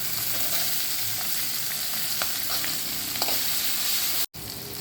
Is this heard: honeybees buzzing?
no